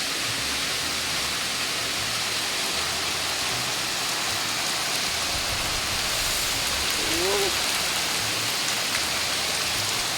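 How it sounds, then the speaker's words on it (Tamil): Steady heavy rain falls outdoors in a continuous even hiss, loud and unbroken throughout with no voices. "வெளியில் நல்ல மழை வந்துட்டுருக்கு"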